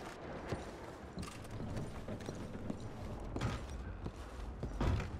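Horse hooves clip-clop in Red Dead Redemption 2, a slow irregular series of soft thuds with creaking tack and gear, faint and alone without talk.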